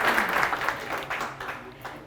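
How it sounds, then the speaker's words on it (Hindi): A crowd at a lifestyle and stress talk claps half-heartedly, a thin, uneven patter of many hands that fades gradually over two seconds with no voices over it. "इतनी सड़ी हुई तालियां क्यों बजा रहे हैं?"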